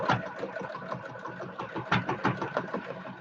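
A sewing machine fitted with an open toe foot stitches crazy patchwork quilting over wadding with no backing fabric. It gives a close, steady mechanical whirr with rapid stitch pulses and brief speed changes, alone without talk.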